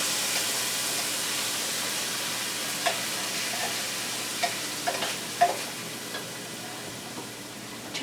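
Beef stir-frying for broccoli beef with dried red pepper in a very hot pan, a steady close sizzle and hiss with occasional light clicks and scrapes of stirring.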